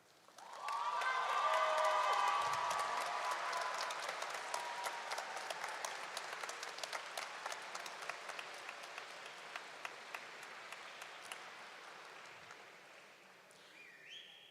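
Hearty round of applause from a graduation audience at a college of creative arts commencement ceremony, swelling quickly and then sustained as dense crowd clapping, slowly thinning toward the end.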